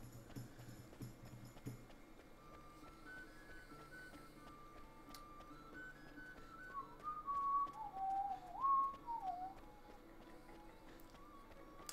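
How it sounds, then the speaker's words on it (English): A person whistles a wandering melody along with music from the Ni No Kuni video game, fairly close and clear, the tune rising after a stretch of quieter background game audio. "I should stop whistling"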